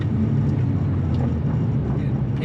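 A 3.8-litre naturally aspirated Porsche 911 Carrera 997.2 with sports exhaust hums with a steady, loud engine drone heard from inside the car while driving, with no talk.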